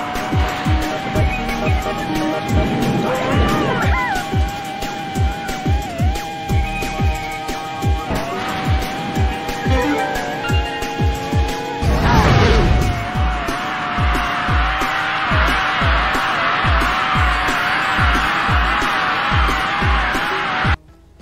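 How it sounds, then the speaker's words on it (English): Cartoonish kart-racing engine drone from the game Speed Punks fills the scene, with rising whooshing power-up sweeps, tire squeals and a pounding rhythmic soundtrack beating underneath, loud and busy for the whole stretch. "Just take a listen to the engine sounds and power-up sounds in this game."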